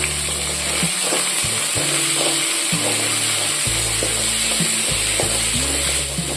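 Chickpea sundal sizzles in a pan while a spoon stirs it, giving a steady frying hiss broken by repeated low scraping strokes, close and moderately loud.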